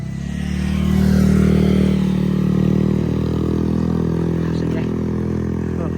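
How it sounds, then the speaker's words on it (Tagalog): A loud motorcycle engine roars past on a road during a night run, swelling to a peak then trailing off as a low drone, with people talking nearby. "ang ingay ng motor"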